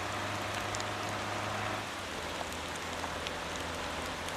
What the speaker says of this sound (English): it's raining again, which is going to make it even more fun